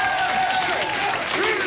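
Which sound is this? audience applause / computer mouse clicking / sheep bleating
audience applause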